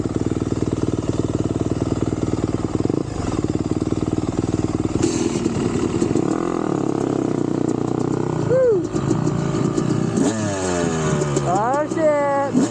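A 2021 Yamaha YZ250 two-stroke dirt bike engine runs throughout, loud and close, with a steady idle that rises into sharp revs near the end.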